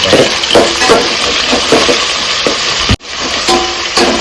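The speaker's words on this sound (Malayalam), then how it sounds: "ഇനി കുറച്ച് സവോള ചെറുക്കും, സവോള വഴറ്റും" Sliced onions sautéing in a pan for ghee rice, a loud close sizzle with repeated stirring scrapes, a brief sharp drop in the sound near the end before the frying resumes; no talk.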